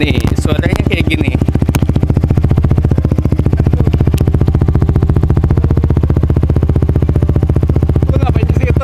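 Yamaha R15 V3 motorcycle with an aftermarket exhaust idling and revving close by, a steady pulsing engine throb running throughout with people talking over the start and end.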